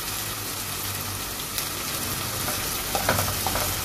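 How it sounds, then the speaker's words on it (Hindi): Roasted eggplant frying in masala in a pan, a steady close sizzle and crackle running throughout with a few sharper pops near the end, no voices. "तो अच्छे से इस मसाले में इस तरह से भून लूंगी"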